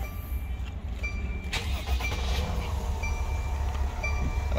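A car engine turns over and catches, followed by a steady low idle rumble close by, with no voices.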